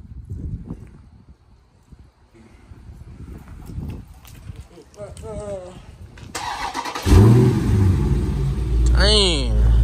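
A brand-new 2023 Dodge Charger Scat Pack fires up partway through with a sharp starter whine and catch, then settles into a loud, deep rumbling idle with a blip of revs, after quieter scuffling and voices nearby.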